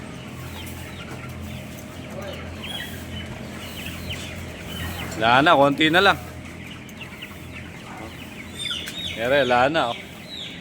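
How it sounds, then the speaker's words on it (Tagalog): Chickens cluck and squawk in loud bursts during a chicken harvest, with a steady hum in the background and a person talking between the calls. "Daming manok, oh."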